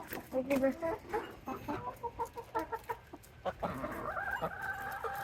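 Chickens cluck in quick, rhythmic bursts close by, a busy run of short calls with faint voices in the background.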